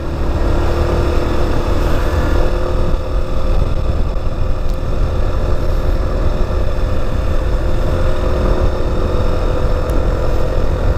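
A motorcycle engine drones steadily and loudly while riding on a cold road in Infanta, Quezon, with a constant low rumble and no break in the sound.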